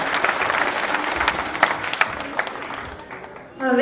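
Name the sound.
audience applause for performers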